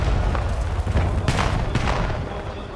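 A grenade explodes during a Call of Duty Black Ops 7 esports finals match, a few sharp booms and gunfire bursts over loud, continuous game noise.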